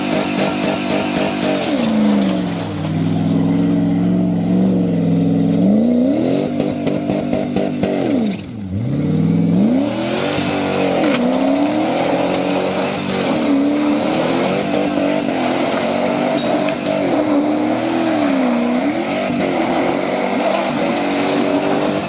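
A Jeep doing burnouts and donuts, its engine revving hard and repeatedly, the pitch swooping up and down in surges over a constant loud roar, with a brief dip midway before the revving resumes.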